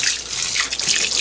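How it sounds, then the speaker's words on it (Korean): Water poured generously onto the dry soil of a tray of barley sprouts, a steady close splashing hiss lasting about a second with no voices. "밑에 흙이 좀 말랐다 싶으면 물을 이렇게 듬뿍."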